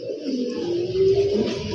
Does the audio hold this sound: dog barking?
no